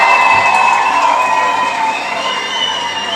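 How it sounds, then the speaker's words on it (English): Loud, steady crowd cheering with shouts and whistles from an audience at a political talk event, sustained throughout at near-constant level, fading slightly toward the end. "Let's give him a round of applause."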